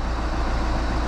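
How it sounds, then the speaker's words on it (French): Car air conditioning running after the engine start of a Peugeot or Citroën 1.4 or 1.6 HDi diesel, a steady low broadband hum and whir with constant loudness and no speech. "Ça c'est la clim qui s'est mise en route."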